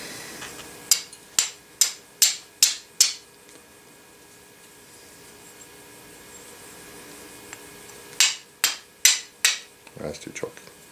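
A flint is struck in a row of six sharp, evenly spaced scrapes, then a pause and another quick cluster of strikes. The sound is close and crisp, with no talking.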